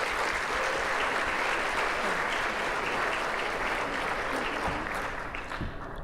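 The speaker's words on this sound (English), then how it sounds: "I want you to give yourself a round of applause," A room full of people applauds at the Masters of Industry 2013 business awards evening, dense steady clapping that holds strong and tapers slightly toward the end.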